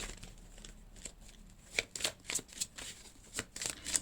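A deck of cards shuffled for a card reading, with quick papery riffles and flicks in an uneven rhythm, close and fairly quiet, no talk.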